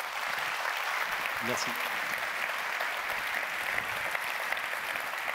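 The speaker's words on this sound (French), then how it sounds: "on peut l'applaudir déjà" Steady applause from an audience fills the whole stretch, with a brief spoken thanks partway through.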